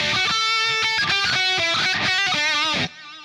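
Distorted electric guitar playing a fast tapped run from a guitar solo, with bright sustained notes changing rapidly, loud and close with no talking, before the tone drops away at the end.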